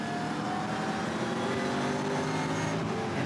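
A V8 SuperTourer race car engine downshifts on track, a loud, continuous roar with shifting pitch as the revs drop through the gears, heard close and without any talk.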